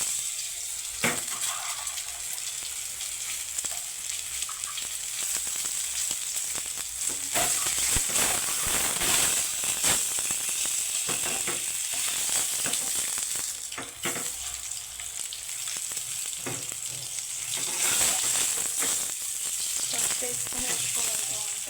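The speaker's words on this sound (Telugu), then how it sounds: "ఇప్పుడైతే ఉల్లిపాయలు చూద్దాం, మగ్గుతున్నాయి." Chopped onions frying and softening in a pan for an eggplant and egg curry, with a steady, close sizzle throughout and occasional faint stirring.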